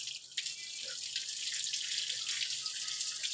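Water pours and splashes steadily while dogs are bathed, giving a continuous close hiss like running from a tap, with no voices.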